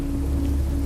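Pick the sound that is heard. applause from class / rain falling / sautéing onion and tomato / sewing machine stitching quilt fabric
rain falling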